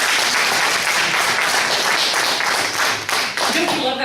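Loud, dense audience applause welcoming a guest at a church service, sustained clapping close by with a voice starting to speak underneath near the end.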